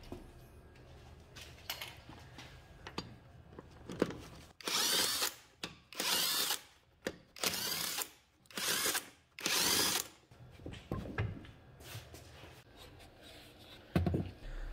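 An impact power tool loosening the wheel bolts on an Audi A3 8L in a workshop, firing in several loud, close bursts of a few seconds each, separated by quieter gaps with small clicks and handling noises.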